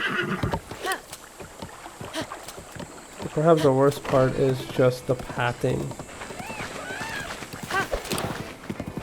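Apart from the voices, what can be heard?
horse neighing and hooves in video game Zelda BOTW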